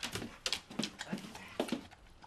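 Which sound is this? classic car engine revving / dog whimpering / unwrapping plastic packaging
dog whimpering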